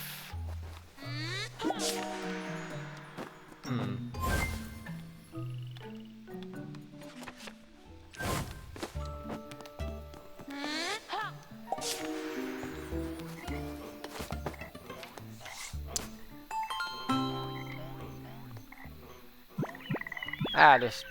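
Frogs croaking in the video game The Plucky Squire, a series of loud, bouncy tonal croaks repeating in uneven bursts alongside game music tones and effects.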